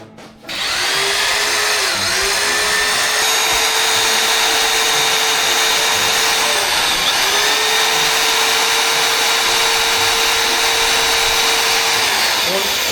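A power drill bores into porcelain tiles to fit a barrel bolt on a gate, a loud steady whine running nearly continuously with a brief dip partway through.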